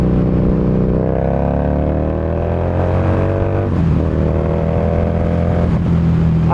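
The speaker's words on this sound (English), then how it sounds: "It accelerates like the clappers. And it pops and bangs" A Harley-Davidson Street Rod motorcycle accelerates hard, its engine note climbing steadily through the gears with a brief shift, loud and close with continuous exhaust drone and no talking.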